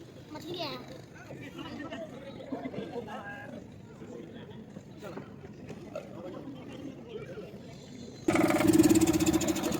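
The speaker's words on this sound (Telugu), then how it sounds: "ఫైనల్ కదిలింది బోట్ రిటర్న్ అవ్వడానికి." A boat engine starts up as the boat sets off on a river trip in Varanasi, a sudden loud broadband roar arriving late after a stretch of voices and background chatter.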